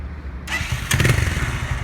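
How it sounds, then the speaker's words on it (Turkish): A Mondial 180 motorcycle engine starts after a brief quiet moment, cranking up and settling into a loud, close, rapid idle. "Enes çalıştır bakalım motoru"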